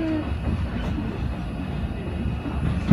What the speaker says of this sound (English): an opportunity like this to ride on the train, express, all the way uptown